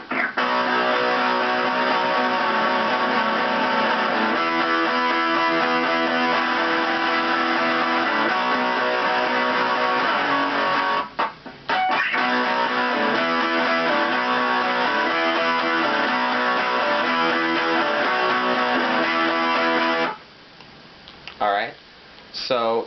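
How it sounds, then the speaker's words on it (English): Distorted electric rhythm guitar plays a chorus as loud, steady chords, with a short break near the middle and another near the end. "I'm going to start with the rhythm guitar, which sounds like this."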